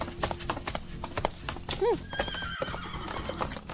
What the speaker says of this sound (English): the walking sound effect that they use sounds like horses galloping